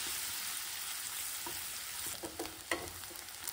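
Chopped garlic, cumin seeds and finely cut green chilli fry in hot desi ghee, a steady soft sizzle throughout with a few light clinks of a spoon against the pan toward the end.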